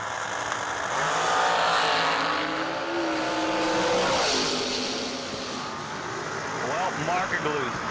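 At a drag strip, a 2015 Miller dragster accelerates, its engine roar rising and sweeping in pitch, loud but somewhat distant, under an announcer's steady talk.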